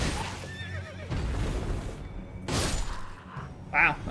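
A horse in Elden Ring whinnies loudly as it is stabbed from behind, the neigh rising over game combat noise with a sharp burst near the end.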